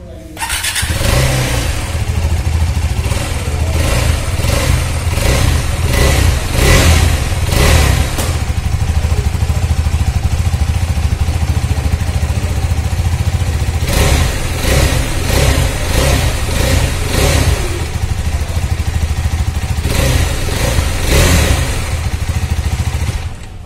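A KTM Adventure 390 motorcycle engine starts and idles with a loud, close, throbbing thump, broken by several sharp throttle revs in clusters near the beginning, middle and end.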